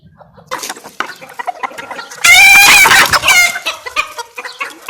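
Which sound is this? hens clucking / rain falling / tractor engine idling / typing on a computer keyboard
hens clucking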